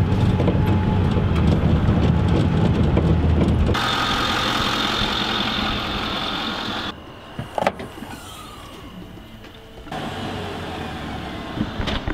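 A Toyota Matrix engine runs steadily while the car is stuck in the woods, with a loud broadband rumble that shifts and drops partway through, plus brief knocks and a few faint chirps.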